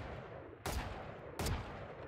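Two sharp gunshots from a rifle in the Valorant shooter game, spaced about three-quarters of a second apart, each a loud broadband crack over a steady low background hum.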